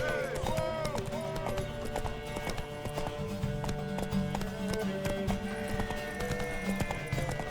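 Rapid clip-clopping hooves of a galloping horse with a whinny, mixed with game-like effects and some talking.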